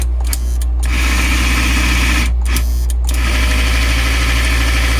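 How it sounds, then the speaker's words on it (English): The motor of a 1955-57 Union Pacific American Flyer #372 GP7 model train locomotive runs on the bench with its shell off. It gives a loud, steady buzzing hum with a few brief dropouts. "You can see the engine runs well in both directions."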